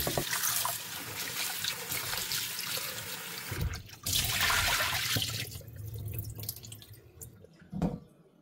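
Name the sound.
rinsing salt-soaked bitter gourd (ampalaya) in water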